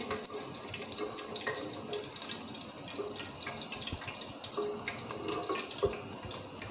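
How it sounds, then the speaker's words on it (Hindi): Finely chopped garlic fries in heated oil in a pan, giving a steady, close hiss of sizzling with small crackles throughout. "इसमें मैंने डालना है लहसुन जो बारीक कटा हुआ था। इसको मैं हल्का सा फ्राई कर लूँगी।"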